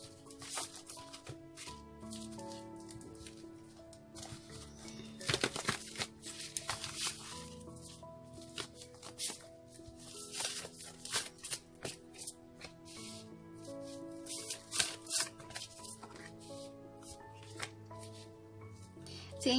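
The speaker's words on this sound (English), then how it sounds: "One more shuffle, they told me." A deck of tarot cards is shuffled by hand over and over, with soft, rapid riffling and patting bursts at close range, quiet and irregular, against faint background music.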